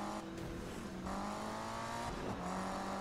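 A Mustang police car's engine roars in a Need for Speed chase, a loud sustained drone whose pitch climbs and dips with gear changes, revving up after a short drop in the first second.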